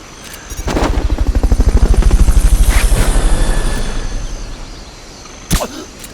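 Fulton recovery helicopter in Metal Gear Solid Peace Walker: steady, rapid rotor thumping swells up loud and close, holds, then fades, with a sharp crack near the end.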